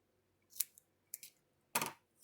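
Scissors cutting through doubled-up card paper while making a slimline card, three short crisp snips close by, the last one longest and loudest, in otherwise quiet surroundings.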